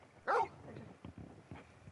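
Torgal, the large dog companion in the Final Fantasy XVI video game, lets out one loud, close bark near the start, followed by softer scattered rustles and thumps.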